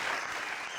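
A studio audience breaks into a short, dense burst of clapping that stays loud and steady throughout, with no voices over it.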